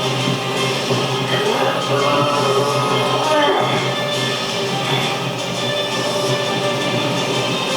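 A passenger train speeds through the Chase the Express video game, giving a loud, continuous rumble with rattling carriages and faint rhythmic track clatter throughout.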